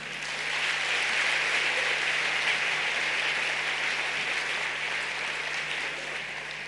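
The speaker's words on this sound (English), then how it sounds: "A bigger round of applause, please, as they take their seats." A large audience at the Africa Climate Summit in Nairobi gives a sustained, even round of applause lasting several seconds, steady and full, with a faint low electrical hum underneath.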